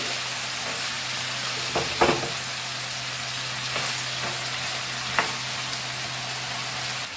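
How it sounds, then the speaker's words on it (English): Rice fries on a high flame for Goan fried rice, a steady, dense sizzle broken by a few soft stirring clinks and scrapes, close and continuous throughout. "Fry this again very nicely on high flame."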